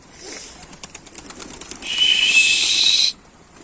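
Quick rhythmic pigeon wingbeats flutter, then swell into a loud, dense burst of flapping with a bright whistling tone before cutting off.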